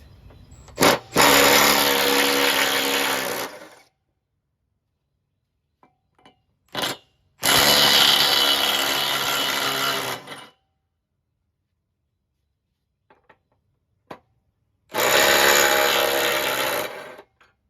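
Power tool removing the 1 1/8 inch pulley nuts on a John Deere 318 riding mower deck, whirring in three loud sustained bursts of about three seconds each, separated by short taps and silence.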